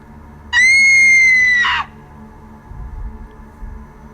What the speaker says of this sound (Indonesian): Sontak aku terkejut dengan teriakan nenekku.